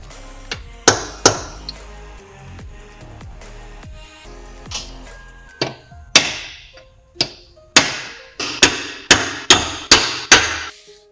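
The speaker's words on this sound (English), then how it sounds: "Let's see if we can gently hammer them apart." Sharp metallic hammer blows on NV3500 manual transmission parts being knocked apart, sparse at first then falling into a quick steady series of strikes, close and loud.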